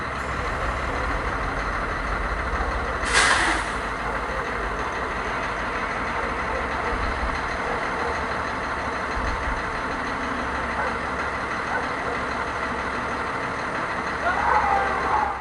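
A bus engine idles with a steady low rumble while the vehicle backs up, a brief louder burst near the start and some faint commotion in the background.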